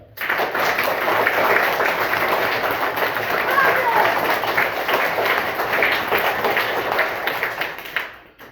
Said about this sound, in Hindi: एक बार मां के लिए जोरदार ताली